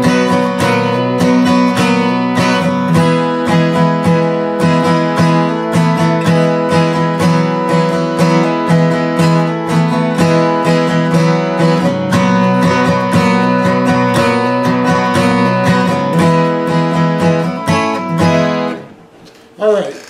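Guitar chords strummed in a steady, busy rhythm, moving from G through suspended 4th and suspended 2nd voicings, played loud and up close before fading at the end.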